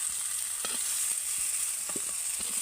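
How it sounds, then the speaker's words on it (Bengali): Bitter gourd fries in hot oil in a pan, crisping hard, with a steady close sizzle and a few soft stirring clicks and no voices. "একটু কড়া করে ভাজতে হবে উচ্ছেটা"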